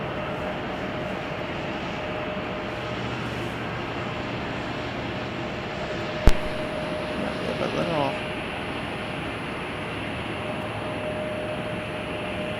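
An airliner arriving at Chicago O'Hare airport gives a steady, distant jet roar that holds even throughout, broken only by one sharp click near the middle.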